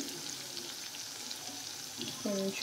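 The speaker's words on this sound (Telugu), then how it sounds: "కూడా బాగా ఫ్రై చేసుకోండి" Shark puttu curry masala frying in a pan gives a soft, steady sizzle at low volume, with a short voice rising briefly near the end.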